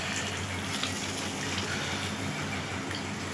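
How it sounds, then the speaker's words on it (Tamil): Water pours steadily and continuously into a pan of quail egg pepper gravy in a Chettinad-style kitchen, a close, loud gushing stream with no talk. "அதனால தான் இப்போ கொஞ்சம் தண்ணி ஊற்றிக்கலாம்."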